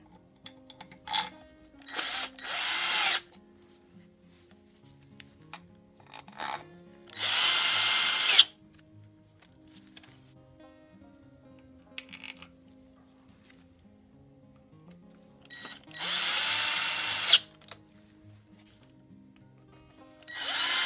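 A power tool whirs in several short, loud bursts while driving bolts into a Yamaha Fazer motorcycle, separated by quieter gaps with faint clinks and handling noise.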